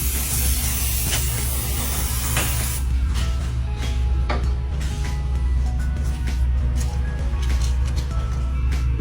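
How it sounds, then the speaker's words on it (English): Brake cleaner sprayed from an aerosol can onto a golf car brake drum, a loud close hiss pouring out steadily for a few seconds before easing into quieter, intermittent spritzes over a low background rumble. "We'll take some brake cleaner. We're just going to clean everything up."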